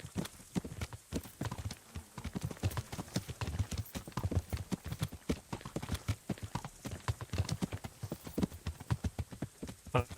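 Horse hooves clip-clop in a steady trotting rhythm through the Kingdom Come: Deliverance medieval game world, moderately close and continuous for the whole stretch.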